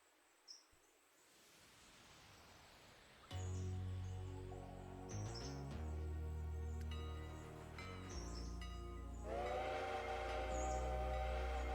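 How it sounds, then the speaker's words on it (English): A train video game plays a locomotive's steam whistle in several long sustained blasts over a rumbling engine, loud and close after a quiet opening. "let me send this locomotive where it belongs"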